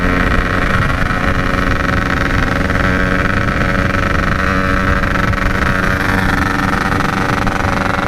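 Two-stroke Yamaha RX King motorcycles race along a city street at night, engines buzzing loudly and continuously close by, with a dense droning roar and no talk.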